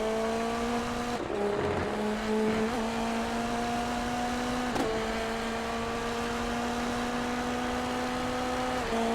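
Indy NXT open-wheel race cars scream along the oval at Indianapolis, a sustained high engine whine with gear-shift dips and rising pitch as cars pass, loud and continuous with no talk.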